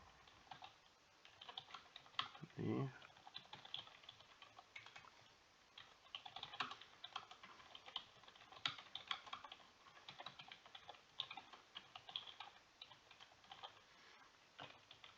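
Quiet, irregular clicking of keys on a computer keyboard, heard up close with short pauses between bursts and a few firmer single presses, like the Enter key, while a document is edited.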